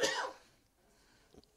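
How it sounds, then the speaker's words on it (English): A single faint cough at the start of a quiet moment, followed by a small throat sound near the end, close to the microphone with no talk. "Sorry, I'm just coughing today."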